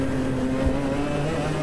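Fireball engine running fast with a steady, continuous high-pitched whine and low hum at a constant level, no talking.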